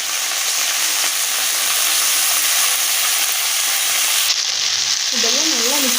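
Fresh mint leaves sautéing with cumin in a hot pan for Tamil-style mint chutney give a steady, loud sizzle and hiss with occasional stirring scrapes, no voices over it.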